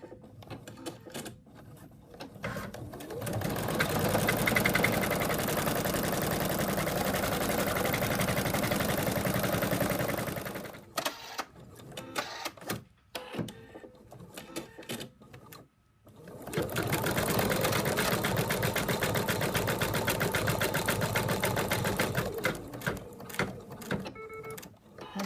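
An embroidery machine stitches satin stitch around the wings of a ladybug purse, a fast steady rattling hum in two long runs separated by a pause with scattered clicks.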